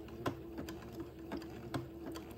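Sewing machine zigzag stitching narrow lace onto entredeux for a baby layette, a steady mechanical whir with regular needle clicks, close and alone.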